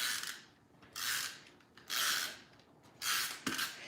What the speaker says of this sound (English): the new snail doesn't make that snail trail noise. It is much quieter to use